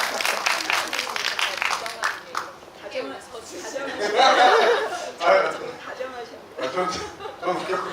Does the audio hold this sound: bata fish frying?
no